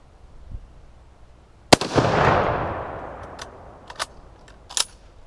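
A single Mosin Nagant Type 53 rifle shot fired outdoors, a sharp loud crack followed by a long rolling echo that fades over a few seconds, with a few fainter clicks and knocks afterward.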